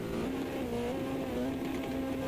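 A Mitsubishi Lancer rallycross car engine in a video game holds a high, steady whine at full revs, droning continuously without letup, with a slightly synthetic, game-like character.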